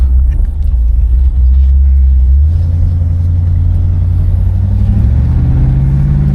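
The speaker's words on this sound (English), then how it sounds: "Motor is definitely responsive." A 1981 Oldsmobile 98 Regency's 350 V8 accelerates on a test drive, a loud, close low rumble that rises steadily in pitch as the engine pulls through the gears, with no talking.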